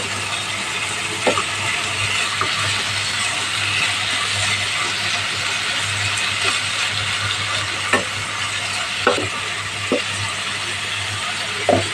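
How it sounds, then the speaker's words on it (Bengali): Pumpkin with cumin powder sizzles steadily while being stir-fried in a pan, with occasional sharp clicks and taps from the stirring utensil scattered through the continuous frying hiss. "সামান্য পরিমাণ জিরের গুঁড়া ভালোভাবে নেড়ে চেড়ে ভেজে নিতে হবে"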